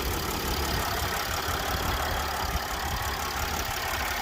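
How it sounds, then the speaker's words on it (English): A 2008 Mercedes ML 280 W164 with a 3-liter V6 idles steadily, giving a continuous low rumble with an even pulse throughout and no talking. "As you can see, 3-liter V6 engine here."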